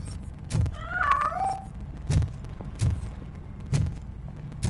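A cat meows once, a clear wavering mew close by, amid a series of soft thumps and knocks in a game scene.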